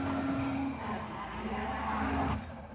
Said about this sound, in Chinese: 这个好像已经打滑了